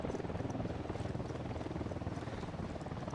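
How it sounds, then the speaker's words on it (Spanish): A helicopter in Ghost Recon drones with a steady rhythmic rotor thump, a dense low chopping that stays even and fairly quiet throughout, with no talk over it. "Cuidado con el helicóptero."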